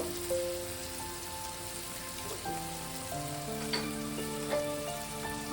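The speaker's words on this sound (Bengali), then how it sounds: "এই মশলাটাকে ভালো করে কষিয়ে নেব" Masala for a mushroom and potato curry fries in a pan, a soft continuous sizzle and crackle heard close and quiet, with faint pops and stirring scrapes and no talking.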